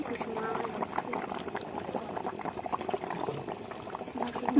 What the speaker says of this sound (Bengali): 10 মিনিট মতো ঢাকা দিয়ে রাখার পর তরকারিতে আমার জাল উঠে গেছে